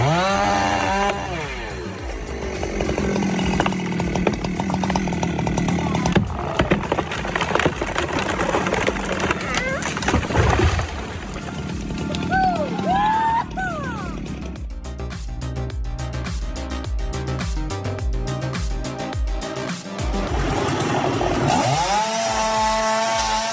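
A high-powered chainsaw fells a giant tree in a logging setting, a loud continuous engine drone with shifting revs and cutting bursts running throughout, with a brief change in pitch midway and no clear talk.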